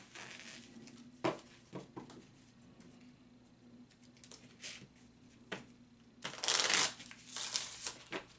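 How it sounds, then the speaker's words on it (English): Playing cards riffle-shuffled in several quick bursts, ending in a louder, longer cascade of flicking cards, close up with no talking. "you can hear that right now I'm doing what's called the riffle shuffle"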